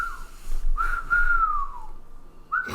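A person whistles in the studio of a casual talk show, giving a few breathy, wavering pitched tones that slide and fade, then a short renewed attempt at the end.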